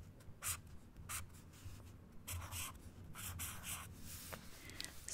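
A Sharpie marker writing on paper, close and soft, with short scratchy strokes in quick bursts separated by brief pauses.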